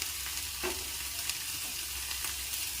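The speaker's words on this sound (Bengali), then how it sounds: "দিয়ে আমরা একটু ভালো করে মশলাটা কষিয়ে নেব।" A masala of mustard paste, ginger, cumin, coriander and turmeric powders frying in a pan, giving a steady close hiss and sizzle with a few soft stirring scrapes, no voices.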